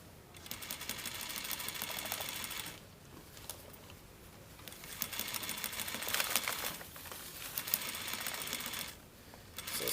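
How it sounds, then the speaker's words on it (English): A sewing machine stitches a princess seam on a Vogue 9039 jacket in bursts of rapid needle chatter, stopping and restarting several times with brief quiet pauses between runs. The sound is close but fairly soft. "So sewing slowly"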